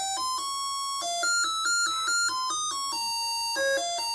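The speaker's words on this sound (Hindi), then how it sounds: "तो इस वाले IC के अंदर एक पहले से म्यूजिक ऐड होता है, इससे आप एक डोरबेल बना सकते हैं" A homemade electronic doorbell built from a preprogrammed music IC plays a bright, tinny melody of sustained tones stepping up and down, steady and fairly loud with no voices.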